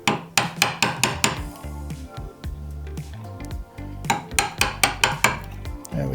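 Wood is chopped with a chisel and mallet to cut a cross halving joint, about five millimeters deep per pass. Sharp, close strikes come in quick bursts of four or five, with short pauses between runs and no talking.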